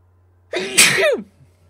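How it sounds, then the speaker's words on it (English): One loud, close sneeze with a sharp intake and a forceful burst, followed by quiet. "Oh, I'm about to sneeze."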